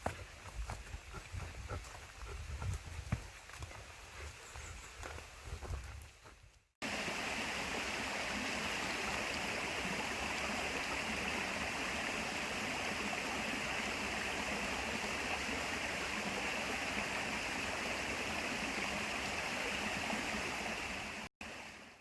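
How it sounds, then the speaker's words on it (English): A stream rushes beside the Talus Lake Trail in Sleeping Giant Provincial Park, a dense, steady roar of flowing water close by, after several seconds of quieter trail sounds with footsteps. "Like, there's just the streams and stuff."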